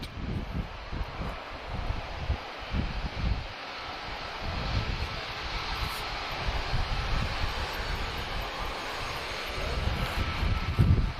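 A Ryanair airliner landing in a crosswind at Lisbon Airport: a steady distant jet roar mixed with gusty wind buffeting the microphone in low rumbling thumps throughout, with no talking.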